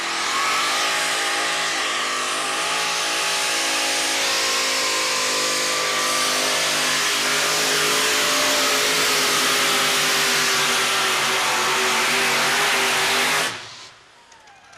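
A pulling truck's engine roars loud and steady down the track at a 1997 USHRA truck pull in Chapel Hill, Tennessee, with rising harmonics throughout before cutting off abruptly near the end.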